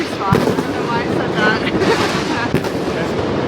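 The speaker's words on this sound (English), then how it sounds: "the entire skyline is just haze from all the fireworks, and it's so smoky, and it's like literally every direction there's fireworks" Chinese New Year fireworks in Penang, Malaysia, burst in dense, continuous volleys from every direction, loud crackling and booming under thick smoke, while people talk excitedly over the din.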